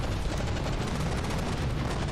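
Warships in the game From the Depths trade cannon and gunfire, a dense continuous roar of rapid overlapping shots and booms, loud and sustained with no talking.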